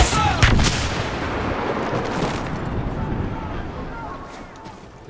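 Huntsman rifle gunfire in a Star Wars video game, a couple of loud sharp shots near the start followed by a booming, rumbling tail over jungle ambience, with talking over it.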